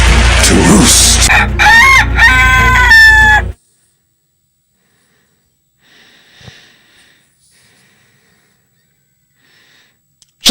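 A rooster crows loudly and up close, with a long rising cock-a-doodle-doo and clucking hens, then cuts off abruptly into near silence with only faint scattered rustles.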